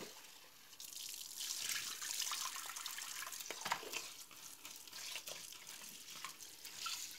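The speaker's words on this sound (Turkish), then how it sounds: "Bunları yıkayıp şöyle bir dilimde süzeceksin. Beyaz suyu gidene kadar yıkayacağım ben bunu." Broken rice being washed under a running kitchen tap, a steady close stream of water splashing and trickling with small stirring sounds, no voices.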